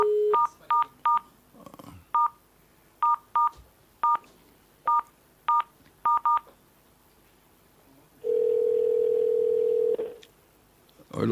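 Telephone keypad tones dial out in a string of about a dozen short, evenly spaced beeps on a radio call-in show, followed by a steady two-second tone and a faint click at the end, with no talking.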